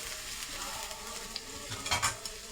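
A spice mixture for fish curry with cauliflower sizzles steadily in a pan, with soft stirring scrapes and a brief louder clatter of the spatula near the end, and no talking.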